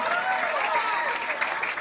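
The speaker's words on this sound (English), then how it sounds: "je pense qu'ils méritent un peu plus d'applaudissements" A school audience claps steadily for students at a cultural-week ceremony, a dense continuous round of applause holding an even level with some crowd noise underneath.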